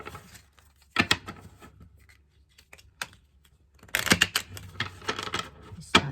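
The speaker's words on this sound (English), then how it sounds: "let's try to shuffle everything" A Kipper fortune telling card deck with silver edges is shuffled in hand, giving a dry flutter of cards in two bursts, one short and one longer, separated by quiet pauses.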